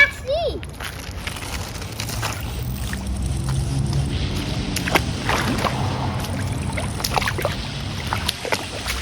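A toy monster truck driving through a muddy puddle outdoors, with continuous sloshing and splashing of water, steady and fairly close, while someone talks over it.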